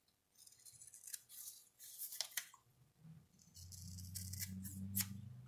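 Scissors rounding off the edges of kinesiology tape, several soft, close snips and rustles, followed by a low steady hum in the background.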